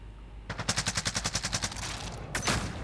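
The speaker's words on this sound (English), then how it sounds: "Yep, someone was definitely just shooting at me." Automatic gunfire in Call of Duty, a rapid burst of about a dozen evenly spaced shots at close range, followed by a brief pause and another short, sharp shot.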